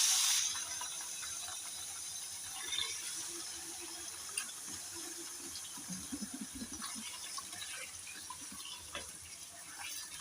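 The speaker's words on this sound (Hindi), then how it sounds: "चिकन को ऑयल में फ्राई कर लेंगे" Half a kilo of chicken frying in two spoons of oil in a pan for Lahori murgh cholay: a steady, close, broadband sizzling hiss runs throughout with faint crackles and small scraping knocks, and no voices.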